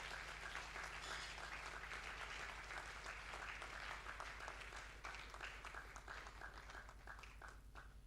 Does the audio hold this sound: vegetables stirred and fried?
no